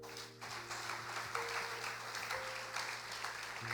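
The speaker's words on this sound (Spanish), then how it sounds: "Denle un aplauso a Cristo" A church congregation applauds during a sermon, a faint, distant wash of clapping behind a steady hum, continuous throughout.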